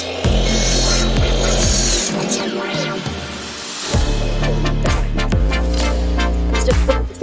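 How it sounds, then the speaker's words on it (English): Power drill driving screws through a board into a wooden chicken coop frame, several close, loud whirring bursts of a few seconds each, separated by short pauses. "And then we're screwing it into each side."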